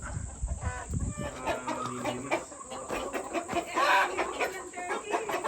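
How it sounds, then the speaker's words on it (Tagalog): Many chickens cluck and chatter together nearby, a busy overlapping flock sound with occasional louder squawks. "Okay, daming manok dito pala."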